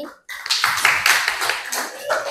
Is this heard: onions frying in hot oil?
no